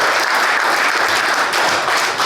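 Loud, dense audience applause fills a room at a Rice County agriculture awards event, a continuous wash of many hands clapping with no gaps.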